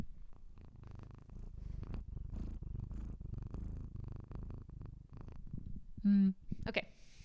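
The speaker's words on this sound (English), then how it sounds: "I got a kitty on my lap. I knew she'd come join me. And she's purring so loudly." A cat purring loudly while settled on a person's lap, a close, steady low rumble running throughout under quiet sounds, with a brief sharper noise near the end.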